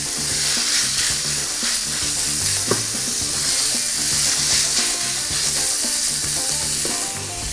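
Minced meat frying in a pot of melted butter and oil gives a steady, loud, dense sizzle with faint crackles and a stirring knock or two, heard alone with no voices.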